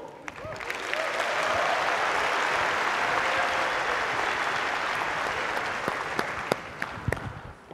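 Audience at the Sony E3 2010 press conference breaks into a sustained round of applause that swells and holds as a dense wash of clapping, then thins into scattered claps near the end.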